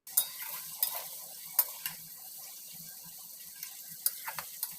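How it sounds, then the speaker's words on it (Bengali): Winter vegetables fry in oil with salt and turmeric for khichuri, giving a soft, steady sizzle broken by scattered clicks and taps of stirring close by, with no talk. "একটু লবণ আর হলুদ গুঁড়ো দিয়ে সবজিগুলোকে ভেজে নিচ্ছি।"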